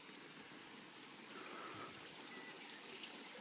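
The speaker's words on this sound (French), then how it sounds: "Un petit plan d'eau là avec une petite cascade, mini cascade." Water from a mini waterfall trickles into a small pond, a soft continuous splashing and burble heard faintly from a short distance outdoors.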